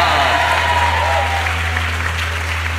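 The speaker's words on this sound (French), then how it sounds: "On applaudit Nicole" A studio audience at a French television show breaks into dense, steady applause that fills the whole moment at an even level.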